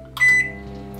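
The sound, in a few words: microwave oven running while cooking a chocolate mug cake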